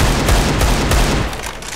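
Loud, dense automatic gunfire rattles in a video game as a player shoots at a vent, a continuous fusillade of close shots that eases slightly near the end.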